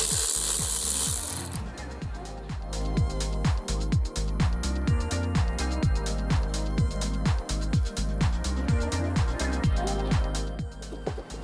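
A ratchet zips rapidly and steadily, spinning loose exhaust nuts off a Cobalt SS with a dense run of close, loud clicks that continues for several seconds.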